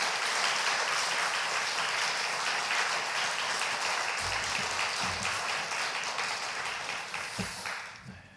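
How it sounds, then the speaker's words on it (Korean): A church congregation at a Wednesday prayer service claps in dense, steady applause to welcome a guest preacher, the sound holding full and even before thinning out and fading at the very end. "우리 감사와 환영의 박수 한번 하겠습니다."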